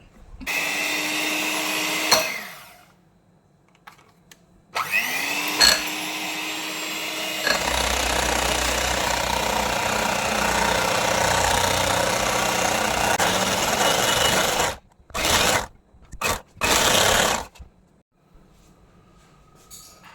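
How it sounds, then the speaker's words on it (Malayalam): An electric mixer beats Biscoff cheesecake batter flavoured with cinnamon powder and a pinch of salt, whirring loudly and steadily up close in long runs, then cutting out and restarting in short bursts near the end. "നന്നായിട്ട് നമുക്ക് ബീറ്റ് ചെയ്തെടുക്കാം"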